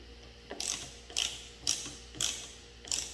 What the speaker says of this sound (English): I'm just going to get them nice and tight.